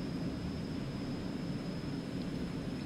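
An Aerobask Eclipse 550 NG jet takes off in X-Plane 11, its engines a steady, even roar with a faint thin whine, heard without talk.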